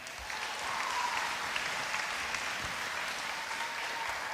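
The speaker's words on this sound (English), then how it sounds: "So let's give her a round of applause." A round of applause at a high school cross country team sendoff, a soft, steady patter of many hands clapping in a large space, fairly distant and quiet, with no speech over it.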